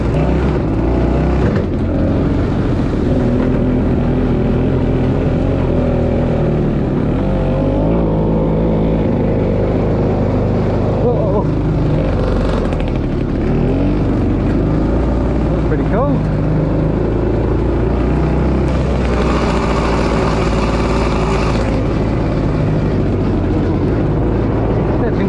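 A vintage 1965 Gnat Mk1 ATV engine drones loud and steady while it is ridden, its pitch shifting through rough patches as a person talks over the running motor.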